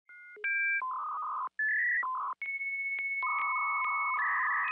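A cartoon character's voice imitates a dial-up modem, producing a loud run of steady electronic tones and warbling beeps with brief gaps, alone without other talk.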